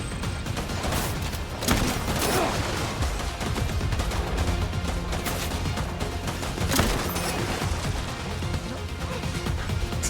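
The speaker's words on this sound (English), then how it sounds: "Oh, that's a machine gun." Machine gun fire in the Death Stranding video game: dense rapid bursts of shots with booming impacts, loud and sustained throughout.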